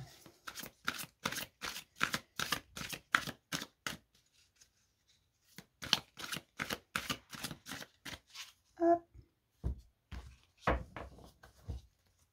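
Oracle cards are shuffled in a run of crisp, evenly spaced riffling strokes, close and quiet, then a pause, another run of strokes and a few soft knocks at the end.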